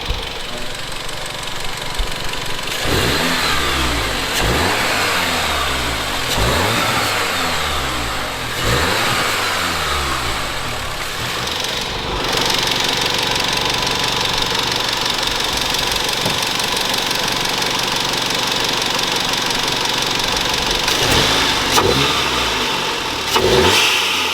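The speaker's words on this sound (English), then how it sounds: "Now the car's running, it's nice and warm." A Volkswagen Golf R Mk7 engine idles steadily while warming up, with a rhythmic knocking pulse, occasionally revving slightly, close and continuous throughout.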